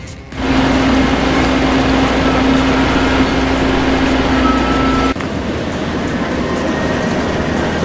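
A large snow blower with a serrated auger and high-capacity impeller cuts through heavy snow, giving a loud, steady roaring churn with a faint hum, then dropping slightly in level near the end.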